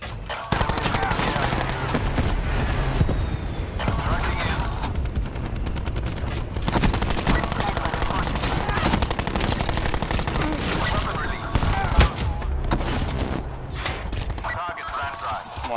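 Rapid gunfire from shooting at enemies in a video game, dense overlapping bursts and volleys that run loud and nearly continuous, with a sharper report near the end.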